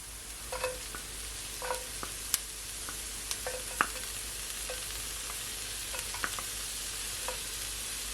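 Garlic sautés in a hot pan for ground beef tacos, a steady soft sizzle with scattered small crackles and stirring taps throughout.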